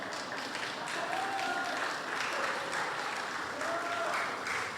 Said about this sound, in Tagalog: ba't pumapalakpak yung mga yan?